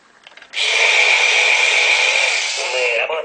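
A children's toy drill runs in one steady, loud whirring burst lasting nearly three seconds, with a bright buzzing tone. A few faint noises come just before it starts.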